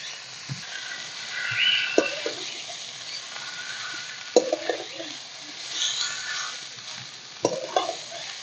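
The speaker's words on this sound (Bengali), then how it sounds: "এবার চাউমিনটাকে আমি ভেজে নেব।" Soaked, drained chowmein noodles frying in a pan, a soft steady sizzle with occasional scrapes and clatters of stirring, moderately close and with no talk.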